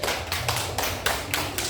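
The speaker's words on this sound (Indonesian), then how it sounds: "Tepuk tangan untuk teman kalian." Classroom of students applauding a classmate, a steady patter of claps with broad bursts at a fairly even rhythm, close and moderately loud, with no talking over it.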